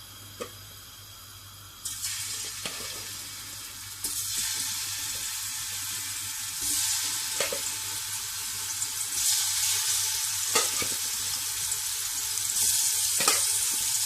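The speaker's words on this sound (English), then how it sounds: "so I'm frying the shrimp." Steady, bright sizzling of prawns frying in hot oil, growing louder partway through, with occasional scrapes and taps of a utensil, no talking.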